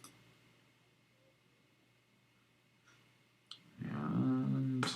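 A few sharp, faint mouse clicks on the Submit button of a Blackboard task, spaced seconds apart over quiet room hiss, followed by a louder burst of muffled noise near the end.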